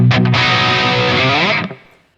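Electric guitar run through a Friedman distortion pedal with a little reverb: a couple of quick picked notes, then a loud sustained distorted chord that rings out and decays into a short reverb tail.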